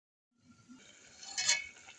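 A lid goes onto a pot of kachnar buds cooking on a stove, giving a faint, quiet metallic clink and brief rattle over a soft background.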